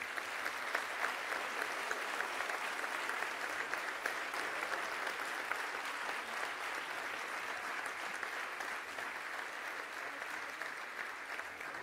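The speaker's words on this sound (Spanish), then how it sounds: "Un aplauso." Sustained applause from a large audience at an honorary doctorate ceremony, steady clapping filling the hall for about twelve seconds without a break.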